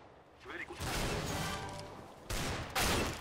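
Gunshots in a CS:GO deathmatch round, fairly quiet broadband blasts: one sustained burst through the middle, then two sharp, louder shots near the end.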